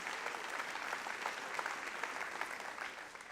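A large conference audience of about a thousand people applauds steadily, a dense wash of clapping that holds at a constant level and eases slightly at the end.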